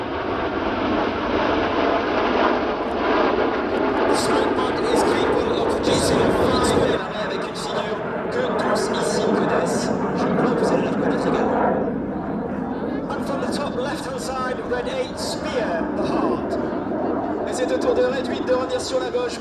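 Fixed-wing aircraft engine roaring steadily and loudly at an airshow at Avord air base in France, the drone shifting in tone partway through as the plane passes, with talk over it throughout.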